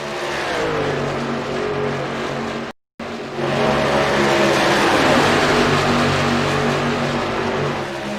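Racing truck engines roar in a video game truck race at Texas, a loud sustained snarl that briefly cuts out, then returns with shifting revs as the pack runs together.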